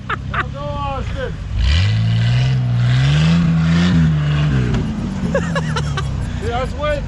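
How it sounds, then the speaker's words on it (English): A diesel mud truck engine revs up hard in snow, a loud low droning roar that climbs and holds for a few seconds before dropping away, with people talking and shouting over it before and after. "The diesel is pulling it literally out."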